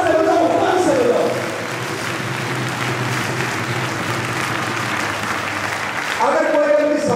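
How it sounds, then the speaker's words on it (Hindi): An audience at an award ceremony claps on cue, a loud sustained wash of applause from a crowd that swells and eases, with a voice at the start and end. "अब 3 अंगुली से बजाओ, अब 4 से बजाओ, 5 से बजाओ।"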